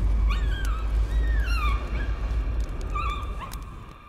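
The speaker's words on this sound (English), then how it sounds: "Puppy? Puppy! Doggo, doggo time." A dog whimpers in a VR horror video game, several high, wavering whines rising and falling in short bursts over a steady low ambient drone, moderately close and without speech.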